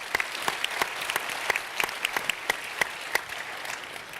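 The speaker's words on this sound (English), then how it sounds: "Round of applause for her." An audience at a public health conference's closing general session gives a short round of applause, dense, evenly sustained clapping from a medium-sized crowd heard without voices.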